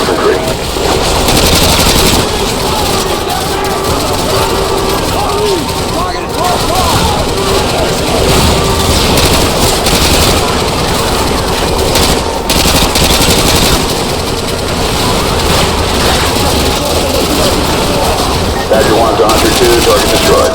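Sustained machine gun fire aimed at infantry in Call of Duty: Modern Warfare (2022), loud, dense and continuous bursts with battlefield rumble and occasional heavier blasts, radio-style voices talking over the shooting.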